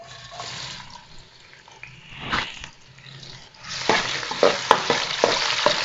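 Chopped medium onion dropped into hot ghee in a pan for aloo matar, bursting into a loud, steady sizzle and crackle after a quieter stretch of faint kitchen clatter.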